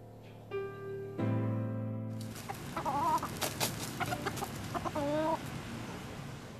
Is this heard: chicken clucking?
yes